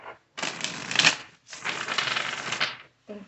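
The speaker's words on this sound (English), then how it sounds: "All right, this will be our last shuffle." A deck of tarot cards is shuffled in two quick riffling bursts separated by a short pause, crisp and close, with a brief voice at the end.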